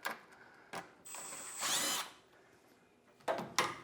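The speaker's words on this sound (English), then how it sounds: "I like to put the bolts back anytime I can. Put them back in a few turns." A power drill driving bolts a few turns back into a Jeep 3.6 Pentastar V6 during a rocker arm job, giving short whirring bursts with a longer run in the middle, close and fairly quiet.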